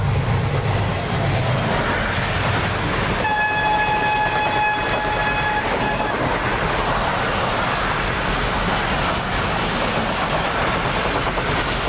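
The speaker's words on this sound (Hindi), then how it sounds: "हमारी ट्रेन ट्रैक्स चेंज करते हुए खानेवाल रेलवे स्टेशन के प्लेटफॉर्म पर लग रही है" Passenger train on the Sir Syed Express route rolling over track switches into Khanewal station platform, a steady loud rumble of wagons with a sustained horn blast in the middle, no talk.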